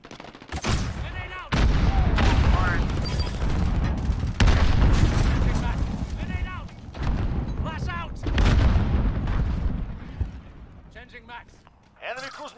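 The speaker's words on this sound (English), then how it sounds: "Enemy cruise missile." A cruise missile strike in Call of Duty Modern Warfare multiplayer explodes in heavy, rumbling booms amid bursts of gunfire and battle noise, loud and close, with players talking over it.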